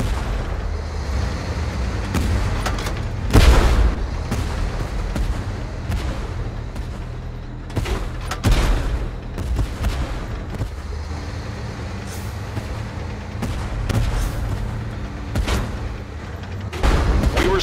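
Tank cannon shots and explosions in the online game Tank Force during a 3 vs 3 battle, with several sharp booms at irregular intervals over a constant low engine rumble, loud and close, no voices.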